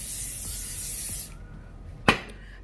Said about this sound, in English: You want to spray the rack because you know you don't want